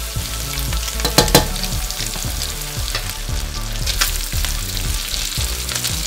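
Chopped onions and crushed garlic frying in cooking oil in a pan for pork blood stew, a loud continuous sizzle with scraping stirs and occasional clatter, close and steady with no talking.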